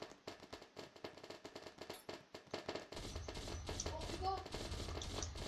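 Burst gunfire in a Roblox shooter game, rapid repeated shots rattling through the stretch, denser and louder in the second half, with a person talking over the start.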